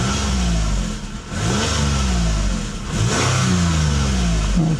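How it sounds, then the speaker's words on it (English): A 2008 Toyota Blade Master G engine is revved in repeated bursts, rising and falling a few times in close, loud succession with no talking. "Give it a little rev."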